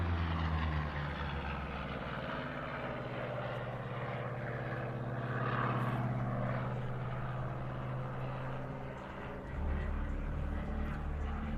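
A Double Wasp 18-cylinder radial engine of roughly 2,000 horsepower powers an aircraft at an airshow, a steady, distant drone that rises slightly and continues throughout.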